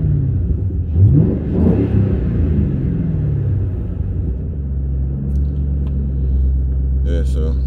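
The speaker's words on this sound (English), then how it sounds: "A little rev, nothing spectacular." A 2005 Ford Mustang GT with 130k miles and stock exhaust gives a short mild rev that swells and fades into a low rumbling idle, with a faint voice near the end.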